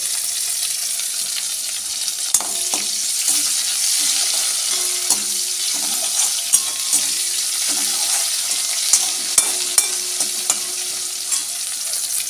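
Egg and potato curry fries loudly in a pan, a constant close sizzle punctuated by sharp, irregular clicks and scrapes of a spatula stirring throughout, with no one talking.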